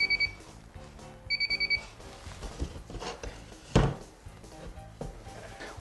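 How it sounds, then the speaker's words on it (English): A moisture meter pressed against water-damaged drywall gives two short bursts of high electronic beeping, the second a quick run of four pips, over quiet room noise with a sharp thud midway. "Should start beeping right about that line."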